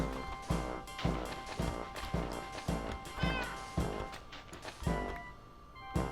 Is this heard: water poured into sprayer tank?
no